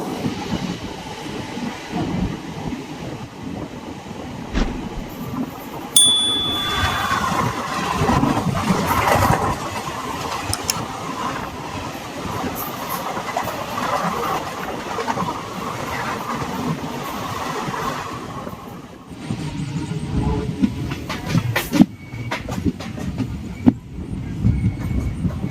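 The Andaman Express train rolling along and switching tracks, giving a continuous loud rumble with rattling carriages and intermittent metallic clicks and clatter from the rails, close and steady throughout.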